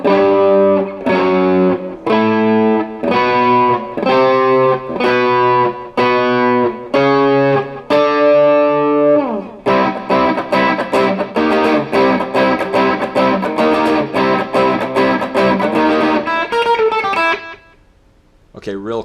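Les Paul electric guitar drenched in echo plays, loud and distorted with repeated punchy chord stabs, then a faster busy riff, ending in a brief quieter tail.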